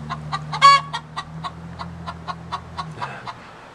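Backyard chickens clucking close by in a quick run of sharp, repeated clucks over about four seconds, one louder squawk near the start and a low steady hum underneath.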